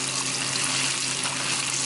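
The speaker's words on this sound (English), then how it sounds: "Now it's time to throw it in the fryer." Coated chicken frying in a pot of hot oil gives a steady, even sizzling hiss that holds without a break for a couple of seconds, with no voices.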